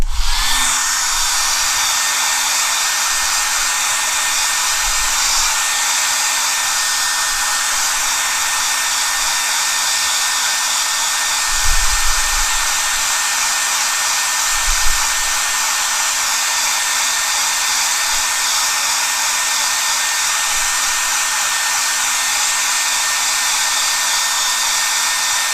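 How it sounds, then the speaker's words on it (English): A hair dryer blows steadily on paint, a loud continuous airy whoosh with a faint whine that holds nearly unchanged throughout, broken only by a few soft low bumps. "Okay, I'm going to blow dry that."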